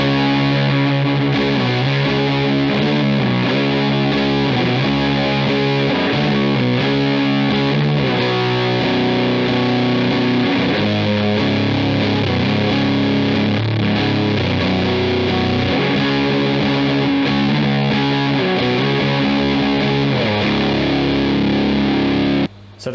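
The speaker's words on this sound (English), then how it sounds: "There's nothing like a detuned Telecaster, and it has a bit lower of an output, being single coils" Detuned Telecaster with single-coil pickups played through a Ratajczyk Cream Reverb amp with the gain pushed, loud distorted chords and riffs ringing continuously with reverb, no talking.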